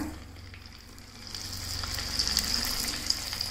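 Bitter gourd slices drop into hot oil for chips, setting off a steady, close sizzle that swells and brightens after the first second and keeps crackling with small pops.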